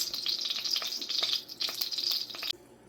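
Hot oil in a stovetop pan for popcorn crackles and spits in dense, close bursts of sizzling splatter from moisture, then cuts off abruptly just before the end.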